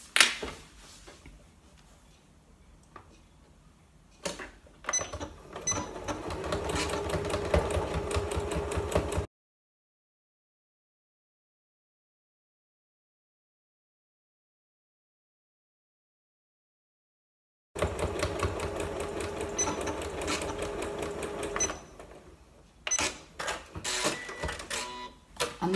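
A sewing machine runs straight stitches through a fabric key fob in two rhythmic, clattering bursts separated by a long silence, each ending with brief mechanical clicks.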